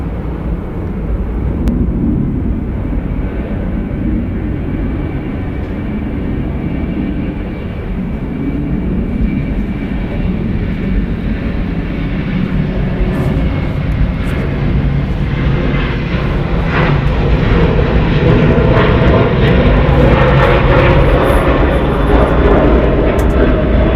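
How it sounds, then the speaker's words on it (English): A Delta Boeing 737-900 jet departs Atlanta Hartsfield-Jackson airport, a loud, broad engine roar heard from a distance that swells steadily as the aircraft climbs away. "Departing Delta Airlines Flight 2042, going to Memphis. It's a Boeing 737-900"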